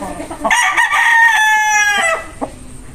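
A gamefowl rooster of the 5K sweater bloodline, an F1 from a Red Game Farm line, crows once loudly and close up, a long harmonic call ending in a short cluck, with no talk over it.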